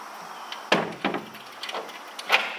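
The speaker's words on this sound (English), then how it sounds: "Closing the door now" A door swings shut at a house beside a small bird pond in Tulum, giving one solid wooden thud followed by a few softer knocks and rattles, fairly close and with no talking.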